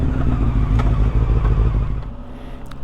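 A Yamaha YZF R125 motorcycle passes close by on the road, its small engine buzzing loudly and steadily, then receding slightly near the end.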